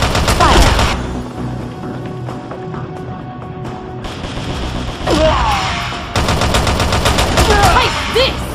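Automatic gunfire from a mobile shooter video game on Android or iOS: loud, dense bursts of rapid shots that rise and fall across the clip, with heavier volleys near the start and end over a busy game soundtrack.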